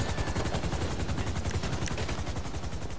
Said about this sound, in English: We're taking shots.